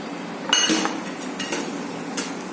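Raw peanuts tipped into hot oil in a pan on the stove, giving a few sharp metallic clattering bursts with a low sizzle in between and no one talking.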